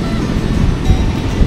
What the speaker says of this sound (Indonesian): Tuh, ombaknya jadi gede banget juga.